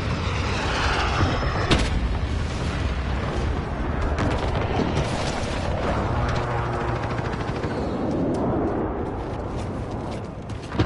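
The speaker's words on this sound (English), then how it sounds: "Enemy precision airstrike inbound." A precision airstrike hits in the Call of Duty: Modern Warfare video game, producing a dense, continuous roar of explosions, booms and rattling gunfire that fills the whole stretch without a break.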